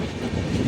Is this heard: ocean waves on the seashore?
no